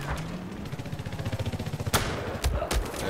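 Rapid bursts of automatic gunfire rattle in a Battlefield 4 match featuring a tank, with a fluttering stream of shots followed by a few sharper, heavier cracks near the end.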